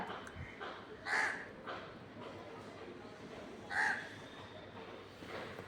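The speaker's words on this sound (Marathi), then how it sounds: "बघ कावळा आला" A crow caws twice at a distance, a few seconds apart, over quiet background noise.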